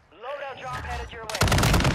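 Gunfire in an online multiplayer shooter game bursts in loud and dense for the last half second, after a stretch of voiced chatter with game sounds in the first part.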